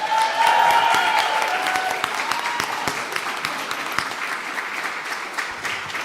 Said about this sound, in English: Everybody give a warm welcome, please, for Jordan Carlos.